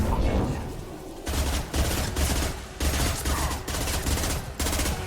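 Bursts of automatic gunfire from a Mass Effect 2 firefight, several loud sustained volleys separated by brief pauses, close and dominating.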